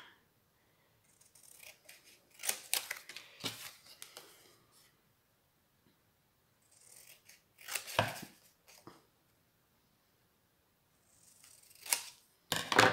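Scissors snip through paper for scrapbook album embellishments in a quiet room, with short clusters of crisp cuts separated by pauses and a final close, sharp snip at the end.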